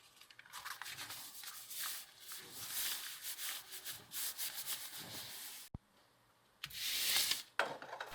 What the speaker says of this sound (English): This is a tack cloth that I use to remove any dust from the surface.